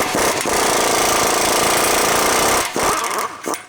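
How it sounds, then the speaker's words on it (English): A power tool fitted with an 18mm socket removes rear bumper bolts on a Ford Bronco, giving a loud, continuous rattling hammer for about two and a half seconds before it cuts off, followed by a few short clanks. "Just go ahead and remove these 2 bolts."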